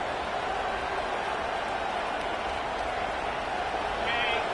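Steady, loud stadium crowd roar from an American football video game during a fourth-quarter drive, a dense continuous wash of noise holding level throughout with a slight swell near the end.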